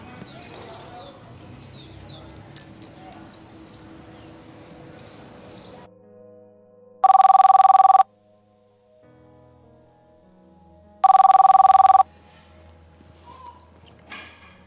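Ringback tone of an outgoing phone call, two long steady rings separated by a pause, loud and clear after a stretch of quiet room noise.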